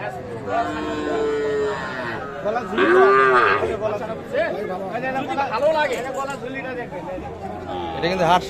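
Young heifer and bull calves at the Aftabganj cattle market moo repeatedly, with several loud, drawn-out calls close by while people chatter around them.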